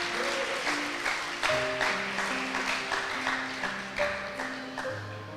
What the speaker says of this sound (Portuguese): dê um aplauso a Deus